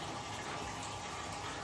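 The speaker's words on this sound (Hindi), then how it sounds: "तो मैंने इसको ठंडा पानी मिला रहा हूँ।" Cold water pours into warmer water to mix it, a steady soft gushing and splashing of liquid that stays even and low throughout.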